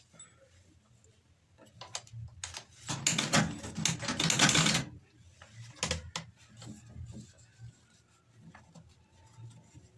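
A sewing machine stitches pleated fabric petals for a rose, running in one loud rapid burst of needle clatter mid-clip, with scattered quieter ticks and handling knocks before and after.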